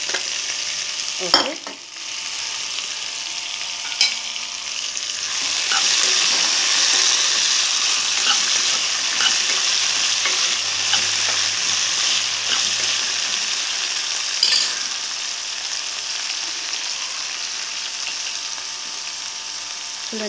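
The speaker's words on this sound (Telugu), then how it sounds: "పోపు వేసుకున్న తర్వాత వీటిని ఇలా వేసేయాలి" Broad beans hit hot oil just after tempering and fry with a steady, crackling sizzle, broken by an occasional clatter of the pan and brief stirring scrapes, while a voice speaks briefly near the start.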